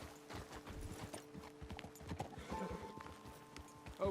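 Steady clip-clop of horse hooves walking at an even pace, close by, with a faint tonal hum entering partway through, in the video game Red Dead Redemption 2.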